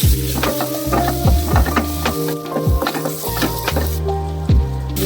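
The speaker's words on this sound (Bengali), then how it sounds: "সেদ্ধ করা আলুগুলো কেটে নিয়েছি সেগুলো দিয়ে দেবো, সাথে হলুদ আর লবণ দিয়ে হালকা ভেজে দেবো" Boiled, cut potatoes fry with turmeric and salt in hot oil, a steady sizzle broken by repeated clanks and scrapes of a spoon stirring against the pan, close and continuous with no talking.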